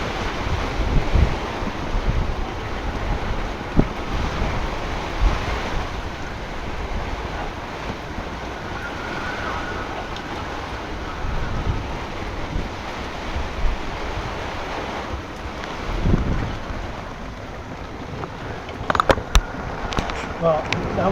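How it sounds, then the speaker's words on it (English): Strong storm wind roars during a tornado over a harbour, buffeting the microphone in a constant loud rush with gusts and splashing water, while a person talks intermittently. "wind shifted to the other side completely"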